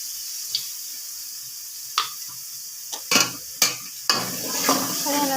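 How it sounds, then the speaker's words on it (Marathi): Chutney and masala roasting in oil in a pan, giving a low steady sizzle broken by several sharp spoon scrapes and knocks against the pan at irregular intervals, close and with no talk. "ते चटणी आणि ह्याच्या मसाल्यासोबत भाजून घेणार आहोत"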